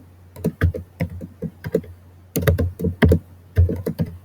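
Rapid clusters of keystrokes on a computer keyboard, close and crisp, typed in bursts separated by short pauses with no talking.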